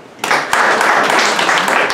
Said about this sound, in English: Give him another applause.